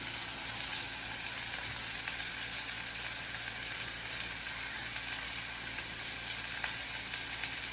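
Onion, curry leaves and green chili frying in oil in a clay pot, giving a steady close sizzle that holds for several seconds without speech.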